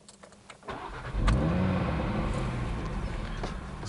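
An Audi hot hatch engine cranks briefly, catches, and settles into a steady rumbling idle nearby.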